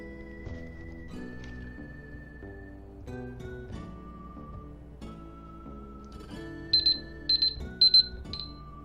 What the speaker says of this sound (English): That is my timer, which I've set as a reminder to make sure I hit the correct buttons in certain orders at certain times.